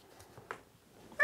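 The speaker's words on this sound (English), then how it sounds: "he's a very nervous kitty and never really been able to pick him up" A nervous domestic cat gives one short, clear meow at the end after a few soft, faint rustles and clicks, recorded close in a quiet room.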